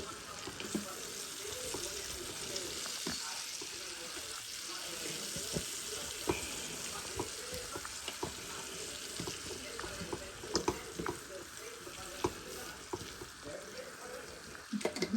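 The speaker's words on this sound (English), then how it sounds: "You should fry these first." Chicken frying in oil for homemade fried chicken, a steady broadband sizzle and crackle running throughout at moderate level, with occasional sharper pops and stirring clicks toward the end.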